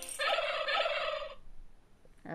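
A barnyard turkey gobbles loudly and close, one rapid rattling burst of about a second followed by quiet, then the start of another call at the end.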